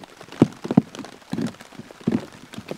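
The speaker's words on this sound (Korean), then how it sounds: "지금 소리 들리시겠지만 비가 오고 있거든요" Heavy rain falls on an open bivouac on a mountain at night, with no tent overhead. It is a close, steady patter broken by irregular louder drops and thumps.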